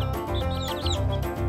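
Baby chickens peep and chirp in quick high-pitched bursts, several overlapping, close and clear over a steady low background hum, with no voices.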